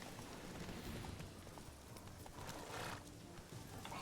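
Roach, a horse in The Witcher 3: Wild Hunt, gallops with a steady run of hoofbeats. Ambient game sound and faint whinny-like noises sit in the mix at moderate, even loudness, with no speech.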